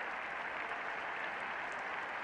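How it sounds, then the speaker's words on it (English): Muted applause ripples from the crowd at a 1977 Ashes cricket Test between England and Australia, a soft, steady patter of distant clapping heard alone at low volume. "Muted applause, I think, is possibly the way to phrase it."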